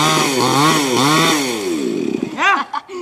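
A chainsaw brought out to cut a neem tree starts up and revs in rising and falling waves, close and loud, then splutters unevenly toward the end.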